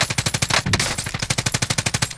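Rapid machine gun fire in a multiplayer military shooter video game, a loud, close, continuous burst of evenly paced shots lasting the whole stretch, with no talking.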